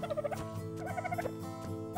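A bird in Ark Survival Evolved gobbles in two quick rattling bursts, close and fairly loud, with a low droning hum beneath and no talk.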